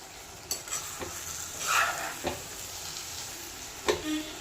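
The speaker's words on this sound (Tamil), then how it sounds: "பாவக்காயை நல்லா இந்த மாதிரி எல்லாத்தோட கோட் பண்ணுற மாதிரி நல்லா வதக்கிக்கலாம்" Steady sizzling of sliced bitter gourd frying in oil, with occasional scraping stirs of a spatula against the pan, close and continuous.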